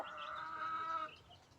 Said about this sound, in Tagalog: Ayan pa yung ibang manok nila, oh.